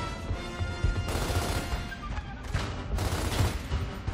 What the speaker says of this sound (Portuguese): o Cole tá atirando